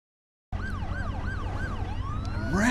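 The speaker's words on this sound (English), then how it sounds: "I'm in the ambulance." Ambulance siren in the Driver San Francisco video game, wailing in a steady rising-and-falling sweep that starts abruptly after a moment of silence and stays loud and close, with no talking.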